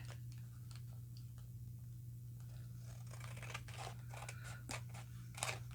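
Scissors snip through craft material at a cluttered worktable, a few crisp cuts and crinkling rustles over a steady low electrical hum, with the sharpest snips near the end.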